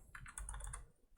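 Brief, light keystrokes on a computer keyboard while entering a value in Johnson Controls' Controller Configuration Tool software, a quick near run of clicks with a final louder tap.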